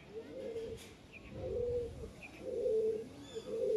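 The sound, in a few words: pigeons cooing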